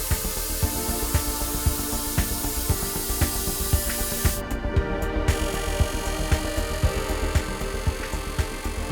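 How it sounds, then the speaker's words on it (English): Bubble jet spray system in a forged wheel factory applying a second solvent coating as an accent colour to the wheel face, heard as continuous hissing spray with regular pulsing bursts and a brief dip midway. "a bubble jet spray system is used to apply a second coating of solvent onto the wheel design face as an accent color"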